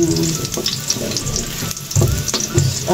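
Garlic browning in hot oil in a pan sizzles loudly and close up, with stirring and scraping bursts breaking through.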